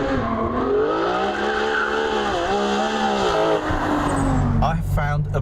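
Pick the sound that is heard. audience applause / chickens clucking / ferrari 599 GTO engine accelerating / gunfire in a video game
ferrari 599 GTO engine accelerating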